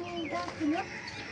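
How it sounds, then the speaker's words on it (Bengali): Baby chicks in a small rooftop garden give a few brief cheeps and clucks that sit close to the recording point, with people talking over and around them. "মুরগির বাচ্চা।"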